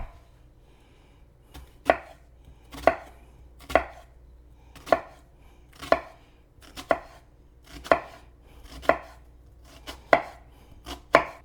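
A knife chops an onion on a cutting board for ahi poke, about a dozen crisp, evenly spaced strikes close up, with a low steady hum underneath and no talking.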